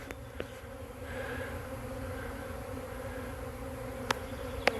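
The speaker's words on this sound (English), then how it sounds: "Get to watch a swarm happen." A huge honey bee swarm pours out of a hive, a steady low buzzing drone of many bees close by, with a few sharp brief clicks near the end.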